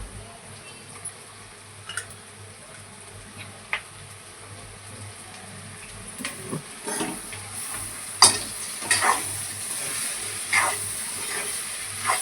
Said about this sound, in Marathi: मिक्स करूया थोडं थोडं घालून, ते सगळ्यांना मसाला लागला पाहिजे